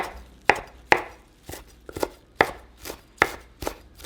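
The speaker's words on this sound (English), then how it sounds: "so now we're just going to chop our cilantro" A knife chops fresh cilantro on a cutting board while shrimp tacos are being made, giving about ten crisp, close thuds in a steady, slightly uneven rhythm with no talk.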